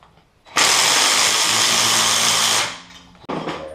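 A power tool drives a spring compressor down on a Jeep Wrangler coil spring during a 3-inch lift install, a loud, steady buzzing whir for about two seconds that winds down, followed by a short second burst.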